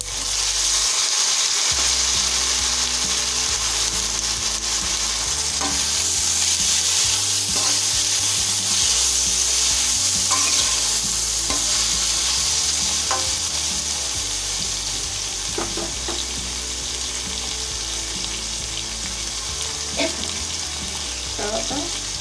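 Amaranth leaves frying and being stirred in a pan, giving a steady loud hiss with scattered scrapes and clicks from the stirring throughout.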